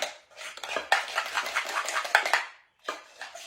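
Cabbage casserole ingredients, including canned soup and butter, are mixed briskly in a bowl, with rapid clinking and scraping of a utensil against the dish in busy bursts and a short pause.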